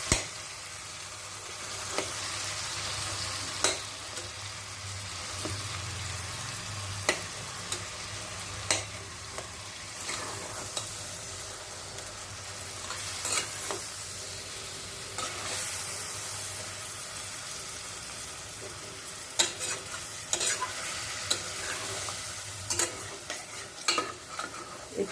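Eggplant kalaunji with melted tomato is stirred in a pan of oil. A spatula scrapes and clacks in repeated strokes against the pan over a continuous sizzle, with no voices.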